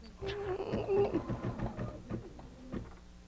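An embroidery machine stitching onto a bag runs with a steady, rapid mechanical patter, moderately close, with faint voices in the background.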